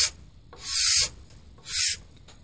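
An old card scraper with an uneven burr drawn across wood in two separate strokes, each a loud, close, dry rasping scrape with quiet pauses between.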